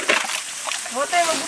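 Water splashes and sloshes out of a bottle in short, close bursts, under people talking.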